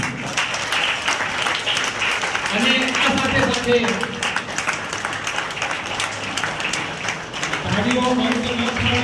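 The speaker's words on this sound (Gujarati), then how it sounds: "ચાલો તાળીઓના ગણકારથી વધાવીશું." An audience at a community honour ceremony claps in sustained, dense applause that carries on steadily while someone speaks over it through a loudspeaker.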